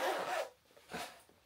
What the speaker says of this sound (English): close the zip up